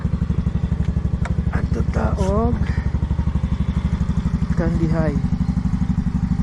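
Steady, close motorcycle engine runs throughout with a pulsing low-pitched drone, while someone talks over it during the ride.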